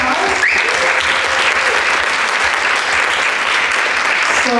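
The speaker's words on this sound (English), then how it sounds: "Can we give them another round of applause?" An audience at a short-film screening Q&A applauds steadily and warmly for several seconds, a dense, even clapping with no talk over it.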